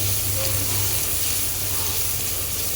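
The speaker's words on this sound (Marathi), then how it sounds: "कांदा छान फ्राय करूया" Onion frying in a pan for a capsicum and soya dish, a steady loud broadband sizzle and hiss that runs unbroken for the whole stretch, close up with no voices.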